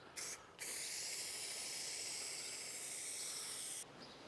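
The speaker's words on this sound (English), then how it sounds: "let's get some spray glue on the top and down around the sides." A short spray puff, then a steady, sharp hiss of aerosol glue sprayed continuously for about three seconds, close and even.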